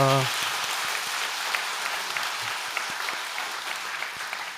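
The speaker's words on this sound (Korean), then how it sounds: "환영의 박수 좀 부탁합니다." A Catholic congregation at Sunday Mass applauds in welcome, a steady dense wash of clapping that fills the church for several seconds and holds an even level throughout.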